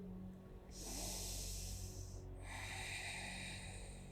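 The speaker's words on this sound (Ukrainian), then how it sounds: "Вдих." A deep breath is drawn through the nose during a full-body yoga session, one long close airy inhale in two phases, quiet and without speech.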